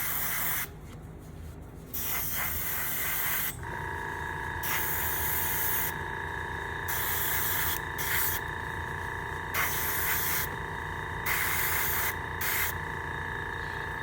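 Airbrush spraying AK camouflage green paint onto a swampy model base, a steady close hiss broken by short pauses as the trigger is released and pressed again, with no talking.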